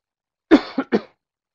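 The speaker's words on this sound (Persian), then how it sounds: "سرفه خشکم میکنم" Three short, dry coughs come in quick succession from one nearby person, the first strongest, with silence before and after.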